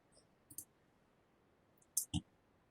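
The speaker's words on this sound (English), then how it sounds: "Let's click here." A computer mouse clicks faintly in a quiet room: two quick pairs of sharp clicks, one pair early and one pair later.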